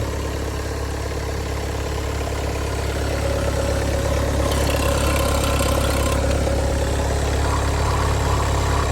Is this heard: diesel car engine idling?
yes